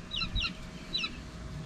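Several chickens clucking in short, high bursts, a few distinct calls close together and then another pair, fairly faint over a low background hum.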